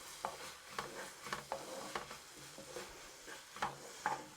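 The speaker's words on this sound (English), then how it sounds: "So in goes the rice wine, and we're going to give that a really quick stir." Soft spatula clicks and scrapes tap at an irregular rhythm as a stir-fry is quickly tossed in a pan after rice wine goes in. The taps are faint and close over a quiet background hiss.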